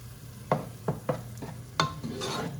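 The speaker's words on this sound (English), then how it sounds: "It's time to put the tomato in." Tomato tipped into onions frying in oil in a pan, with several sharp clacks of a spoon against the pan over a steady, fairly close sizzle as the mixture is stirred.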